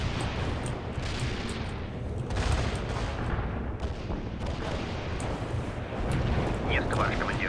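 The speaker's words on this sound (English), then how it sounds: "Commencing barrage. Stay clear of the target area. Commencing the barrage." An artillery barrage in the video game World in Conflict: a dense, continuous rumble of distant shell impacts and booms, loud and unbroken across the whole stretch, with a voice speaking over it.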